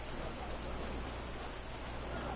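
Rain in the video game GTA Online falls as a steady, even hiss of moderate loudness, with no voices or other sounds breaking through.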